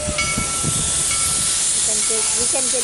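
A train rolls past close by, with a steady loud hiss and rumble, a few faint tonal squeals and a voice briefly heard underneath.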